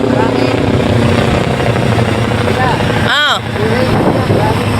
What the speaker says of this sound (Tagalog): Kasi nasa amin dito yung helicopter